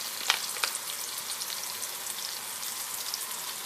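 Pan sauce with dehydrated veal stock stirred in for a pork and cooked avocado dish: a soft, constant sizzle and bubble with a few light scraping taps of stirring, faint and close, no talk.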